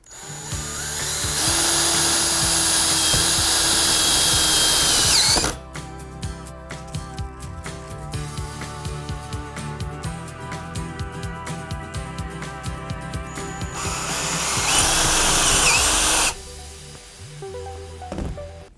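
Power screwdriver driving a metal screw to join two tubes, with loud sustained high-pitched whirring bursts at the start and again near the end, separated by quieter stuttering mechanical rattling.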